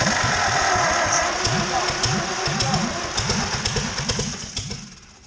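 An old Farmall H tractor engine sits for years, then cranks and catches, its rhythmic low chugging pulses running close and loud before slowly fading near the end.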